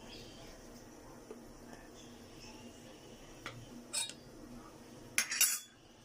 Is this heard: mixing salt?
yes